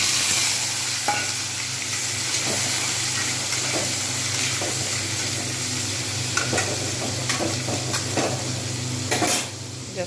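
Potatoes dropped into hot oil with tempered spices for a Bengali kohlrabi curry, a continuous loud sizzle with scraping stirs and spatters throughout, easing slightly at the end.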